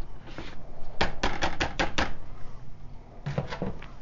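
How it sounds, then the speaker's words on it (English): A tool scrapes glaze residue from the underside of a sieve in a series of short, sharp, close scrapes and taps, a quick cluster at first and a few more after a pause. "check underneath and make sure there's nothing stuck here and scrape off anything that is"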